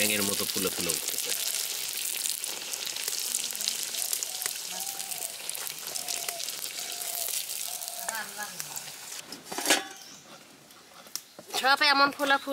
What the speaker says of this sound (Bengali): গরম গরম পিঠা ভাজা হচ্ছে